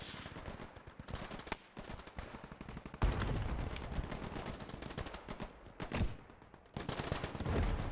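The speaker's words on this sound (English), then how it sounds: "Once you can hear the gun, it sounds very nice." Modded cannon and gunfire from the Gates of Hell WWII tank battle game, fairly quiet, with bursts and booming shots scattered over rumbling battlefield noise and no voices.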